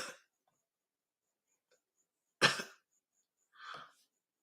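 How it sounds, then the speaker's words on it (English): Two separate coughs from one person in a quiet room, the first sharp and loud, the second softer, about a second apart. "now I'm left with this cough"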